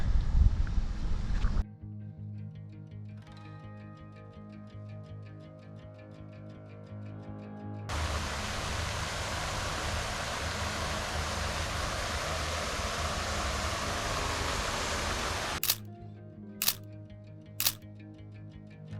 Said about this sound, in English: we're just going to have a look at this waterfall right in front of us here